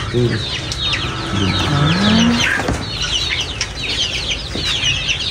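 Chickens on an organic farm in Oriental Mindoro cluck and squawk up close while being fed black soldier fly larvae, with a busy mix of calls and bird chatter over steady outdoor background noise.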